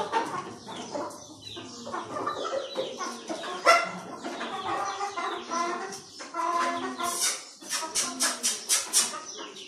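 Hens cluck busily and continuously while pecking at kitchen scraps such as eggshells, onion and vegetables, a close, dense chorus of rhythmic clucks and squawks.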